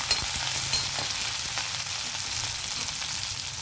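Curry leaves and coriander frying in a pan while making carrot fry, a loud, steady crackling sizzle close up with a few faint scrapes of stirring and no voices.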